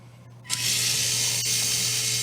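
A cordless power drill spins up near and loud, backing out a screw from the bottom of the bumper on an INJORA IR60 RC pickup, a brief quiet before a steady whirring buzz for about two seconds.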